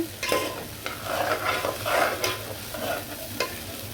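Rice for pulao or biryani is fried and stirred in a pot, with a spoon scraping through the grains in a repeated rhythm over a steady sizzle. Close and clear, with no voices.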